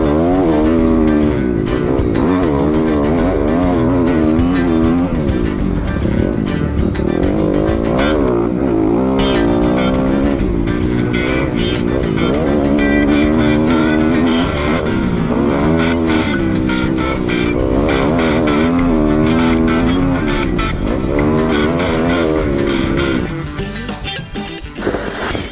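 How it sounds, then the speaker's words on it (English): A dirt bike engine revs hard through its range during a ride, droning loud and close with rising and falling pitch, the throttle working constantly and easing off near the end. "this bike uses a lot more of the rev range because it has so much less horsepower than the Husky does"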